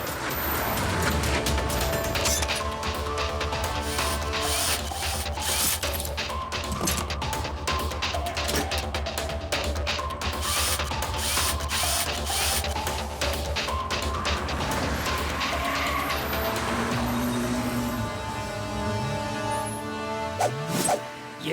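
Cartoon race cars overtaking, including a musical car, in a Motu Patlu race: a dense, busy clatter of engine buzz, ratcheting and gear-like rattles, with tonal horn-like melodies weaving through and brief squeaks near the end.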